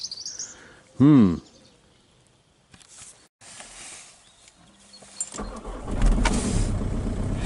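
An old Skoda, cleared of ice and snow, is started in the cold: a starter whines and the engine catches into a low, rough idle that builds and keeps running, with a brief chirp early on.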